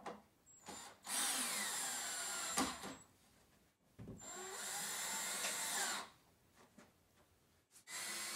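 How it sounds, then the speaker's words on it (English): A power drill runs in two long bursts with short whirs around them, whining as it drives screws down tight, fairly quiet overall. "Using the power drill, we'll screw the 6 screws down tight"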